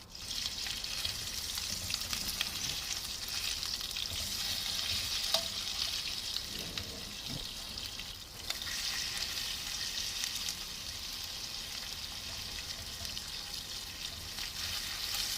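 Chicken tandoori tikka pieces cooking over a flame, with steady loud frying sizzle throughout and occasional faint stirring or clatter, no talk.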